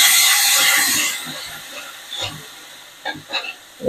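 Ginger, garlic and green chili paste hits hot oil with a loud sharp hiss that fades over about a second, followed by softer spitting and a few brief crackles nearby.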